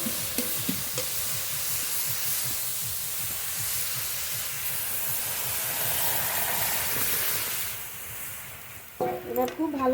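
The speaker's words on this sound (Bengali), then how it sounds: "এবার ডাল ঢেলে দেবো।" Lentil dal poured into a pot of wilted spinach cooked with salt and turmeric, giving a steady low simmering hiss and bubbling throughout, with a few brief clinks and scrapes near the end.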